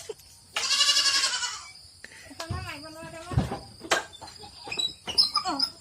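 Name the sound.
goat bleating in shed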